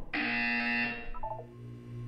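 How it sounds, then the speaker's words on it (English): A loud electronic buzzer in the Portal 2 video game sounds for about a second with a harsh tonal drone, followed by a few quick softer tones over a steady low background hum. "When you hear the buzzer, look down at the floor."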